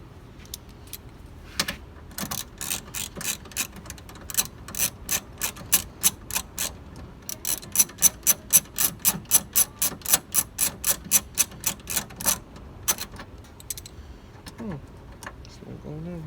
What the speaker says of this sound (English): we're gonna put the bolt that goes there back with the 10mm